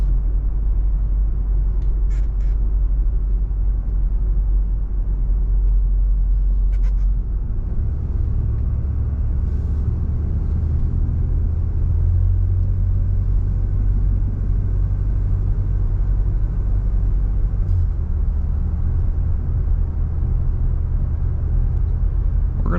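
A 1975 Oldsmobile Cutlass S drives along with a steady low engine rumble and road noise, close and continuous, its tone shifting slightly as the car gets underway, with no talking.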